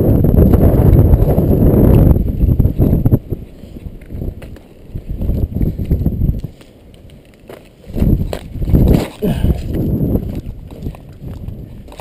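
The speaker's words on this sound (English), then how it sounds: "Wind's really picking up." Strong wind batters the microphone outdoors in Castle Wood, coming in loud rumbling gusts that ease off between bursts, with rustling and clopping noises under it and no talk.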